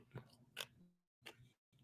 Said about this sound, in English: Sorry for the crunching.